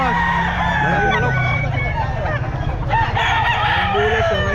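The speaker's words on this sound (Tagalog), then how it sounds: "Malaking manok." A rooster crows loudly and close at a busy pet market, a long drawn-out cock-a-doodle-doo with clucking fowl around it, while people chatter nearby.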